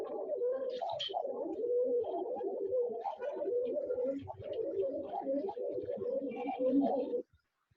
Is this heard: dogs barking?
no